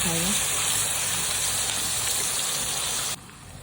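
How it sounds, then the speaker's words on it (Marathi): Onion with salt frying in hot oil in a pan for chicken gravy gives off a loud, steady hiss and sizzle that holds evenly throughout, then drops away sharply at the very end. "कांदा आपल्याला व्यवस्थित फ्राय करायचा आहे"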